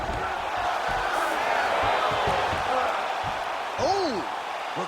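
An arena crowd in the UFC 5 fighting video game roars and applauds steadily in a loud, continuous wash, with a brief whoop rising near the end.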